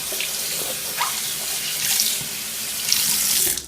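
Tap water runs steadily into a sink as an item is rinsed off, a close continuous hiss and splash with small surges, no talking.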